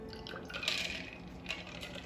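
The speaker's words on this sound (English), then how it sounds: "Strain it into these glasses" A cocktail is strained and poured into glasses at a bar, giving a soft liquid trickle and splash with a couple of brief bright clinks, close and quiet with no talk.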